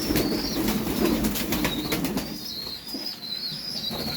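Pigeons flutter and shuffle close by, with wings flapping and soft cooing, then a few high chirps as the flock settles to feed on paddy grain.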